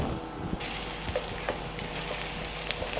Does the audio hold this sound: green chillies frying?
yes